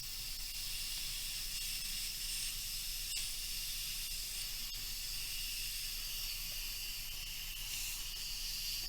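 Steady hiss of steam venting from an Instant Pot pressure release valve while cooking Manhattan clam chowder, a continuous broad rush holding at an even level throughout with no talk.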